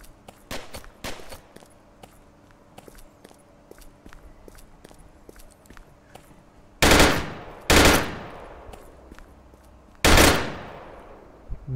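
Machine gun fire in the VR battle royale game Virtual Battlegrounds: a series of sharp single shots early on, then three loud, booming bursts, each ringing out and fading, with quieter clicks and shuffling between them.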